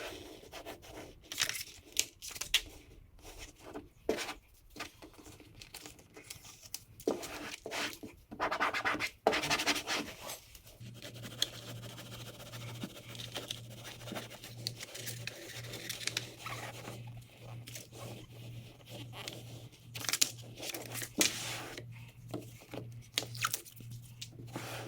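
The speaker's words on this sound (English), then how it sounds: "work from the center outward while slowly peeling away the backing as you go" Vinyl backing film peeled slowly from an OEM rear bumper applique on a Honda Fit, heard as soft scratchy rubbing and tearing crackles that come and go at close range, with no talk.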